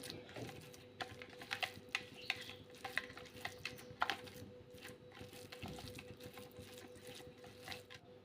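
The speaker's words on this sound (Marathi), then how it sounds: "तर हा सर्व मसाला आपण एकत्र करून घेऊया व्यवस्थित सगळा एकजीव करायचा आहे" Spoon stirring and mixing a dry masala spice stuffing for stuffed bitter gourd in a bowl, soft repeated scraping and clinking taps, close and fairly quiet, with no talk.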